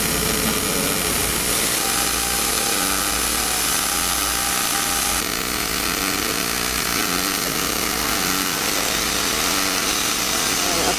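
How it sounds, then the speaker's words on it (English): Pipe turns slowly on a rotating positioner while welding runs without pause, giving a loud, even broadband hiss and crackle throughout with no speech. "the piece is rotating on a positioner so that he can maintain the same position the entire weld."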